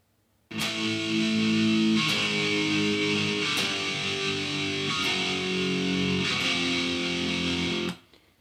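Heavily distorted electric guitar strikes five sustained heavy-metal power chords, each ringing for over a second before the next, loud and up close.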